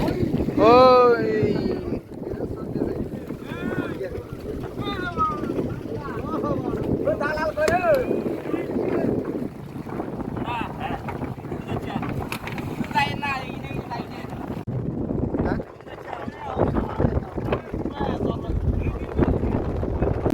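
Boat idling at an island shore with strong wind buffeting the microphone, low rumble and water movement, while several people talk and call out nearby throughout.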